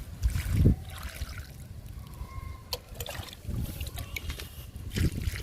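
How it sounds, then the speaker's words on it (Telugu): Water is poured from a mug into a large tub holding an amaryllis lily plant, with several quiet splashing pours separated by pauses. "అమర్ లిల్లీకి వాటర్ ఇస్తున్నా"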